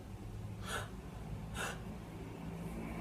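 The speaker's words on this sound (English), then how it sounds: "you breathe in, inhaling really fast, as if you had a shock" Two quick, sharp inhaled gasps, close and fairly soft, about a second apart, as if startled, with no talking around them.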